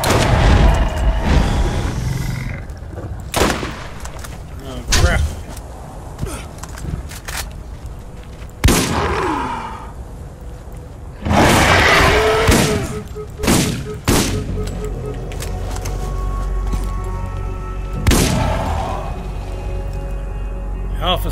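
Shotgun and sniper rifle fire in the Borderlands shooter, fighting armored skags: loud, spaced booming shots break out irregularly over a steady game background, with a couple of heavy blasts and quieter thuds in between.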